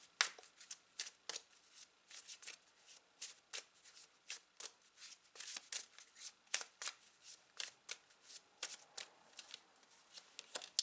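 Tarot cards being shuffled and drawn, a quick series of crisp, close riffling and flicking bursts in an irregular rhythm, fairly quiet and with no talking.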